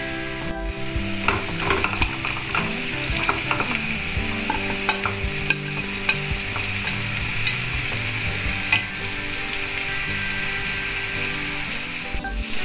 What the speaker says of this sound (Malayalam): ഇനി ഗ്യാസ് ലോ ഫ്ലെയിമിൽ വെച്ച് നമുക്കതിലേക്ക് പൊരിച്ച ചിക്കൻ ഇട്ട് കൊടുത്ത് ജസ്റ്റ് ഒന്ന് ഇളക്കി കൊടുക്കാം